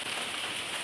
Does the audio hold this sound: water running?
no